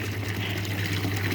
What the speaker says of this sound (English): with this pump, I've got it so there's water going into the grow beds